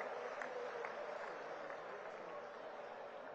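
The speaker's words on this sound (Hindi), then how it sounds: "तालियां जोरदार होनी चाहिए।" An audience claps to welcome Chief Minister Nayab Singh at the Hisar Airport expansion program, a steady, continuous wash of applause from a large crowd, moderately distant and unbroken, with no speech.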